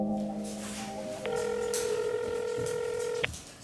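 A landline phone is dialed as a mother calls a child placed in an institution: a quick run of distinct keypad tones, then a steady ringback tone that holds for about two seconds before cutting off, with faint room noise beneath.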